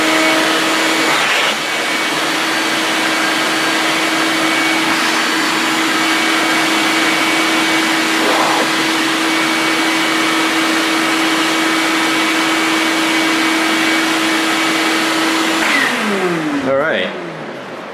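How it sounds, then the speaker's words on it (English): A shop vac runs steadily with a loud, constant whining roar during statue prep work, then winds down and cuts off near the end. "grab the shop vac"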